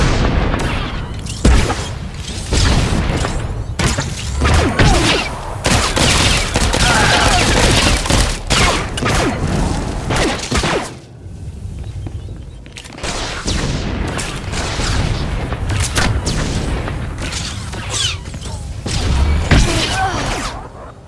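Blaster gunfire and explosions rattle through a Star Wars: The Old Republic battle, with heavy overlapping bursts, booming impacts and near-continuous loud fire that eases briefly midway before surging again.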